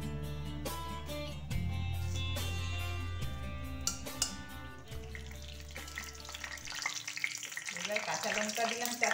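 Bay leaf, dried red chilli, small cardamom and cinnamon sizzle in hot oil for a sour cauliflower dish, a steady close frying hiss with occasional stirring clinks and no talking.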